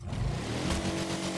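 A Dune FAV car accelerating in GTA 5, a short loud engine roar with a rising rev that stays steady and close throughout.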